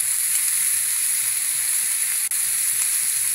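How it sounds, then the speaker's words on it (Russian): Meat sizzles on a grill pan in a steady, close hiss of hot fat that runs on without a break, except for one brief dip midway. No voices. "готовится мясо гриль"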